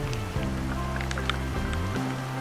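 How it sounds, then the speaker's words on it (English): Raindrops patter on the ground outside a tent awning, a steady dense wash of rain under a low droning hum, with scattered brighter drop ticks throughout. "we heard the pitter-patter of raindrops"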